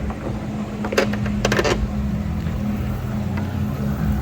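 A motorboat engine drones steadily close by on a lake in the evening, with water rushing and a few brief splashes or knocks early on.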